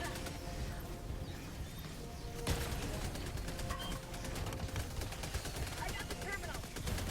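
Machine gun sentry firing in Helldivers 2, a steady stream of rapid shots over dense battle noise, with a sharp burst near the middle and continuous rattling gunfire through the rest.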